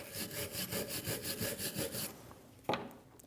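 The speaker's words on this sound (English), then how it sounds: "Using a wire brush, clean where the tins sat." Wire brush scrubbing the rear brake caliper bracket of a 2011-2025 Mitsubishi Outlander, a steady rhythmic rasp of about a dozen back-and-forth strokes close up, then a single sharp metallic knock near the end.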